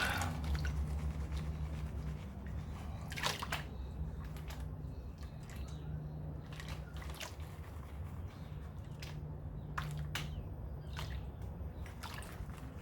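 Water sloshes and swirls around in a gold pan outdoors, soft and fairly faint, with small scattered splashes and drips over a low steady background rumble.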